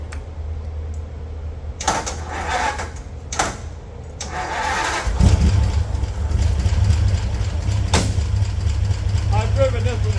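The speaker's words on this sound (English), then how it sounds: "Most people have never heard one run. Nothing sounds as cool as a flathead." Flathead engine in a vintage open-top car cranking, catching and then running at a steady low rumbling idle, loud and close, with people talking over it at moments.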